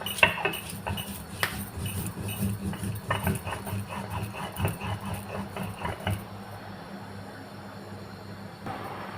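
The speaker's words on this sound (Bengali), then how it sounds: "এখন মরিচটা আগে বেটে নিই" Chili peppers are ground by hand for a leaf bhorta, making rhythmic, gritty scraping strokes close by. The strokes repeat for about six seconds, then give way to quieter background noise.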